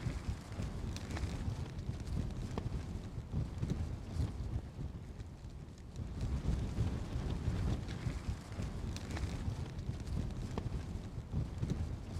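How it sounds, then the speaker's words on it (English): Wind roars steadily outside, battering a tent with a continuous low rumbling buffeting that swells and eases in slow waves for several seconds. "It is still really windy, as you can probably tell."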